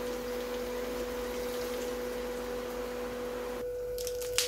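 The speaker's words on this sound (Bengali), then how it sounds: "এবার আমি একটু গরম জল দিয়ে দিলাম।" Hot water pouring into a pan of egg and cauliflower curry, a steady wet hiss with a sustained tonal hum that cuts out abruptly near the end, followed by a brief clatter.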